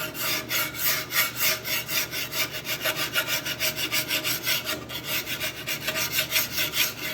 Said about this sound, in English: It's just taking the surface rust off.